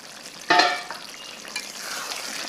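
Pigeon meat curry sizzles in a pan as it is stir-fried, with a sharp burst of hissing and scraping near the start, then a softer, steady frying crackle.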